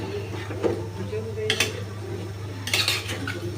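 A spoon scrapes and clinks against a cooking pot while masala is stirred and mixed for a curry of dried shrimp and raw jackfruit, a few distinct metallic strokes over a steady low stove hum.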